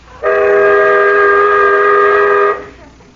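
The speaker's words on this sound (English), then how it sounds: "That whistle almost blew my brains out." A loud, piercing whistle with a sustained multi-tone sound, blown in a hearing test during a 1949 old-time radio comedy. It starts abruptly, holds steady for about two seconds and then cuts off, with no talk over it.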